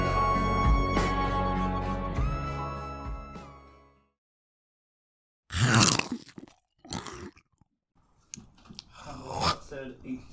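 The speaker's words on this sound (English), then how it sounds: "always be making the crunch sound, like when we come back or like whenever we leave" A crunching bumper effect breaks in after music fades out to silence: several loud, close, crisp crunches that sound like a bite into something brittle, in irregular bursts.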